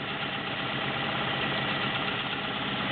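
A vintage White Model 530 sewing machine runs on its own, its motor giving a steady, dense mechanical whir that holds an even level for a few seconds, close and loud.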